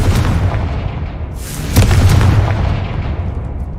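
A Confringo spell explodes in Hogwarts Legacy, a single loud, deep boom that bursts midway and rumbles on under a continuous low roar.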